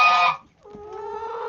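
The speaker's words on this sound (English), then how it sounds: "too many chickens in the way" Chickens in a backyard flock cluck loudly and close by in a short burst, then a softer, sustained hen call follows.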